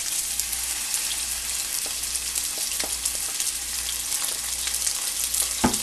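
Chicken pieces for garlic chicken hit hot oil and fry with a steady, close, broadband sizzle, with a few sharp pops near the end and no talking.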